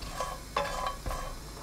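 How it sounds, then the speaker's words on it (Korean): Ten dried stock anchovies are stir-fried in a pot over high heat, with a steady sizzle punctuated by a few scraping stirs of a utensil against the pot. "냄비에 손질한 국물용 멸치 10마리 넣고 센 불로 1분 볶아주세요."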